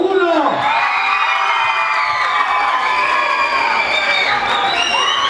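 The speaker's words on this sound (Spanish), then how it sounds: "necesito un aplauso para la pareja número 1." A loud crowd at a group excursion event cheers, whoops and shouts for a couple, with excited children's voices, high-pitched and continuous for several seconds.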